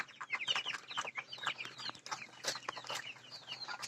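A flock of about a hundred young tiger-breed chickens, around 32 days old, clucking and cheeping in a dense, continuous chatter of overlapping calls close by, with no talk.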